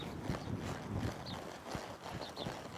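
A horse moves through a barrel racing turn, its hooves clip-clopping in several quick, irregular beats at moderate distance, with faint background noise.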